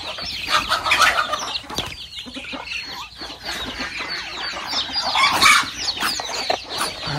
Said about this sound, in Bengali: হাঁসের বাচ্চাগুলো এই আমার এইখানে এসে পড়ছে, এইখানে ঠুকুর দিতেছে খাওয়ার জন্য